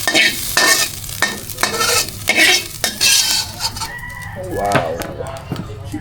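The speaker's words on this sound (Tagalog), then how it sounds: "pinipirito natin tuyo" Dried fish frying in a pan, with a close crackling sizzle and bursts of stirring. A rooster crows in the background toward the end.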